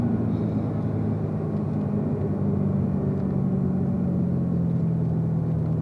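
A race car at full throttle exits a turn on the Spring Mountain track, its engine a steady, loud, unbroken roar with deep low rumble held evenly throughout.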